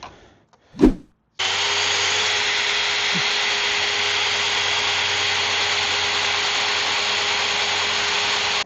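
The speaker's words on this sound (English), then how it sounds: "So we'll drill right in there, pilot hole." A power drill bores a pilot hole into a Harley-Davidson Road Glide heat deflector, running as a loud, steady, close whine for about seven seconds after a brief knock.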